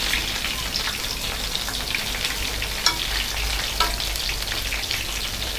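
Soya chunks deep frying in hot oil, a dense, even crackling sizzle like steady rain that runs throughout with a couple of sharper pops, close and fairly loud, no talking.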